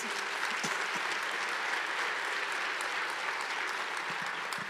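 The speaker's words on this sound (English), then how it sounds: "Yes, it deserves a round of applause." A room of guests at an awards luncheon applauds with even, sustained clapping that stays level from start to finish, a few sharper claps popping out of the wash.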